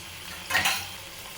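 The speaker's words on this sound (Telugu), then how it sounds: "ఇప్పుడు ఐ ఫ్లేమ్లో పెట్టేసుకొని దీన్ని మంచిగా వేయించేసుకోవాలండి" Prawns frying and being stirred with chili powder and salt in a pan over high flame, a soft steady sizzle with a brief louder burst of stirring scrape near the middle, close and alone without talk.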